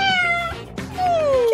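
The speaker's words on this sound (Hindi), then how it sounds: "कितनी प्यारी बिल्ली है।" A cat meows close by in a cake-decorating food challenge, two drawn-out, rising-then-falling cries separated by a short pause, clear and fairly loud.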